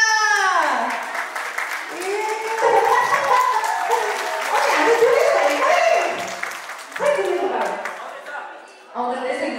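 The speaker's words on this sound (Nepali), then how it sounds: "दुलाको भाइ बाबुको लागि ताली बजाइदिनु होला" A wedding crowd applauds the groom's younger brother, the clapping sustained and fairly loud throughout, with children's voices and chatter mixed in and brief shouts over it.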